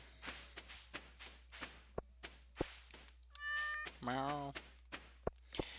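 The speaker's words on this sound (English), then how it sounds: "I am making sure to pet the cat on a daily basis" A cat in the Stardew Valley farming game meows twice in quick succession, clear and close, amid soft game footsteps and thuds, with a person talking around it.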